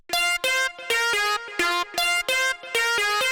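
Bright synth lead for a phonk track plays a quick melody of short staccato notes with a choppy rhythm, clear and alone with no talking.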